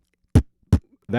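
Two short, punchy low thumps made by mouth, spaced about a beat apart, followed by the start of a voiced sound; a beatboxed kick drum imitation.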